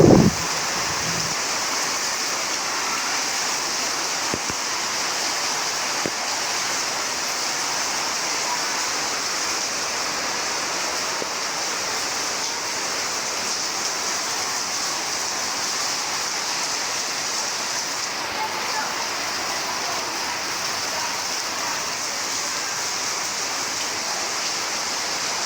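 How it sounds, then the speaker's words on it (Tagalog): Heavy rain pours down steadily at a school, flooding the floor, a dense, loud, continuous hiss with no talking. "nakikita nyo po na napakalakas ng ulan"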